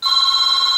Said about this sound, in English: I'm just going to have to let that phone ring.